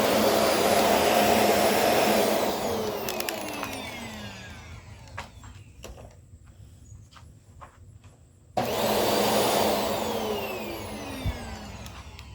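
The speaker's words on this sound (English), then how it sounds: "this is the Hoover Airlift" A Hoover Airlift vacuum cleaner runs with a loud, steady whooshing roar, drops to a quieter rattling lull with scattered clicks, then surges back to full roar.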